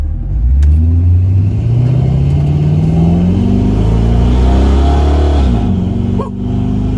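A 1977 Chevrolet C10 truck engine revs up and accelerates on the road, a loud close rising drone that climbs through gears and dips briefly near the end.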